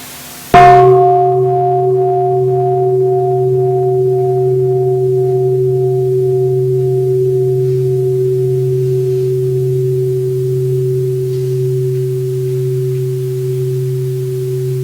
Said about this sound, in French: on va écouter un son de cloche